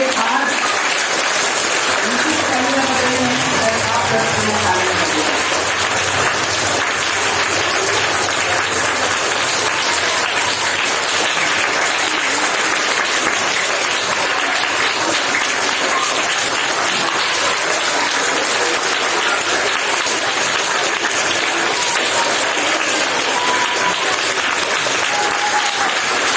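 Steady, dense applause from a crowd of children at a school prize ceremony, sustained loud clapping filling the whole stretch, with faint voices mixed in underneath.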